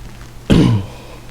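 One sharp, harsh cough from a person with a cold, close and loud, standing alone against a quiet room.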